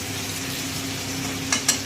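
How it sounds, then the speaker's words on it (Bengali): Fish frying in a pan gives a steady, moderately loud sizzle, broken near the end by two light clinks of a utensil against the pan, with no talking. "দেখো মাছগুলো ভাজা হয়ে গেছে।"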